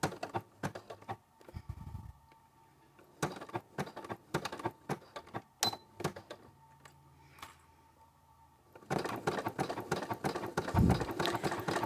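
Sewing machine stitching a garment lining in bursts, with short runs of rapid ticking broken by pauses and a long steady run near the end, close and moderately loud.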